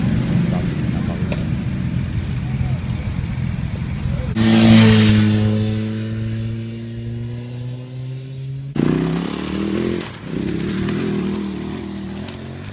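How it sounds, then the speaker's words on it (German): A Yamaha motorcycle climbing Grimsel Pass in the Bernese Oberland, its engine rising in pitch as it pulls away close by, fading after several seconds, with wind noise and some talk around it. "Mit meiner Yamaha fahre ich da Grimsel"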